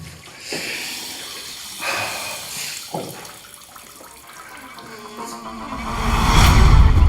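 A household toilet is flushed, its rushing water swelling from a quiet hiss into a loud, full gush toward the end, preceded by a few scattered bumps and sounds.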